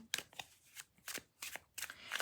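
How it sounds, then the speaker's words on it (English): Tarot cards of medium size with a semi-gloss finish are shuffled by hand, giving several quick riffling, rustling bursts in close succession, near and clear, with no talking. "It's relaxing to shuffle the cards."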